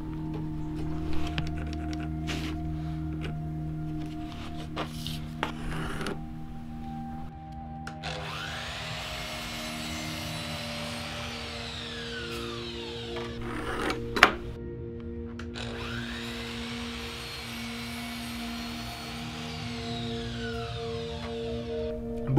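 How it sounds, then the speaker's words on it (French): A miter saw whines through wood in two long cuts, each rising and fading, with clunks and handling noises in between. "j'ai utilisé la scie à onglet parce que c'est beaucoup plus rapide"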